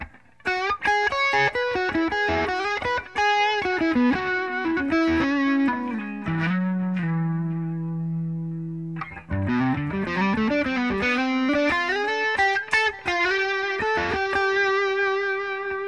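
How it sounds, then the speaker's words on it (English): Carvin DC127C electric guitar on the neck pickup played through distortion, fast melodic runs, then a long sustained chord ringing out before the lively playing resumes; loud and close, no talking. "what it sounds like when you add a little bit of distortion to it"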